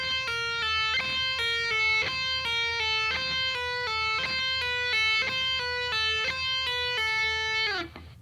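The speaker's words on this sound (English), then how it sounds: "a descending pattern, so we're doing pull-offs for that" Clean guitar notes fall in short descending groups of three legato pull-offs, smooth and connected, repeating steadily before a final note bends down and fades.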